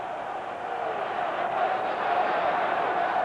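Football stadium crowd at a 1991 Packers at Jets game, a sustained loud roar of many voices reacting, steady and rising slightly, filling the whole moment without a break.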